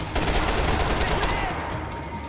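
Rapid automatic rifle fire in the video game Max Payne 3 comes as a dense, loud burst of shots rattling for about two seconds, with possible speech mixed in.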